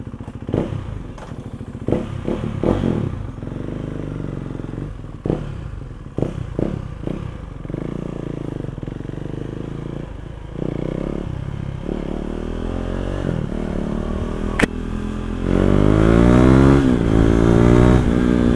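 KTM 390 Duke single-cylinder motorcycle after an ECU remap, a run of sharp throttle blips and pops followed by sustained revving that builds louder toward the end, close and dominant with no speech.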